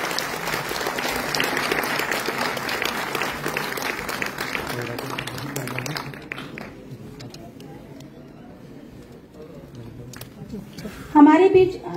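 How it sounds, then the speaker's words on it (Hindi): Applause from the audience at an inaugural ceremony fills the first half, loud and dense, then fades into quieter room ambience before a brief burst of noise near the end. "जोरदार तालियां तो होनी चाहिए सबके लिए।"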